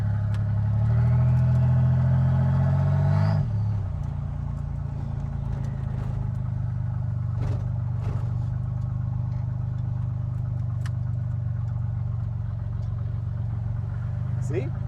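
A custom-built rat rod car's engine rumbles loudly and revs near the start, then settles into a steady, lower drone as it drives off down the road.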